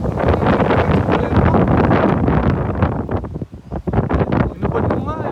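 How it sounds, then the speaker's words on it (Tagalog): Strong wind buffets the microphone outdoors in a park in Australia, loud rumbling gusts rising and easing continuously, with a brief lull midway, and no other sounds standing out. "Lakas ng hangin."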